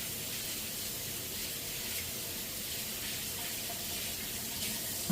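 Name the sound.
washing hands under running tap water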